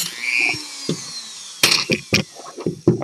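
A Dremel cuts music wire in short, sharp grinding bursts, several of them close and loud, separated by brief pauses.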